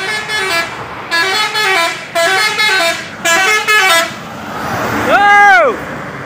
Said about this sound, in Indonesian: Masuk bus Putra Simas